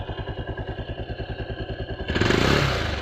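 A motorbike engine idles with a steady, rhythmic chugging pulse, then revs up abruptly near the end into a louder, rougher roar.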